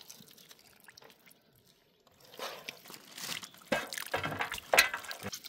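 Boneless chicken meat being washed under water, with faint dripping followed by louder splashing, sloshing and squelching bursts close by, no talk.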